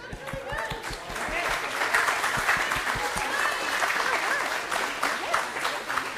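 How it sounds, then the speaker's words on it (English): An audience at a fall choir concert applauds after a song, with steady, full clapping throughout that has a few sharper claps near the start. "Give it a round of applause"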